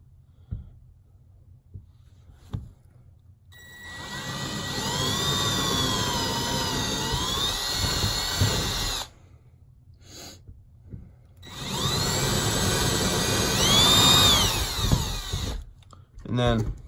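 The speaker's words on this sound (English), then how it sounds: "So I'm going to drill all the way through this piece here." A power drill bores a 15/64 bit through a piece of wood on a workbench vise build, whining in two long sustained runs of several seconds each, separated by a short pause with light handling clatter.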